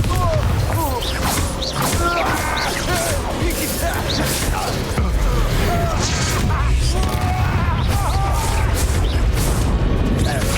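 Bombarda blasting spell explosions in the video game Hogwarts Legacy, heavy booming crashes repeated through a dense, loud battle mix with constant combat noise and some voices throughout.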